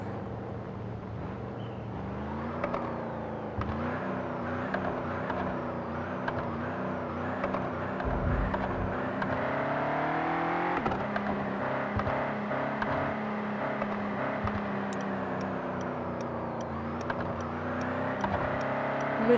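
A car pulling away in the driving game Car Parking Multiplayer: a steady engine drone with gear-like pitch shifts and gentle revving, fairly quiet and continuous throughout, with no talking.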